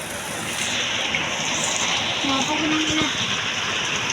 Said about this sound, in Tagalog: Grabe yung ulan. Nakarner tayo dito guys.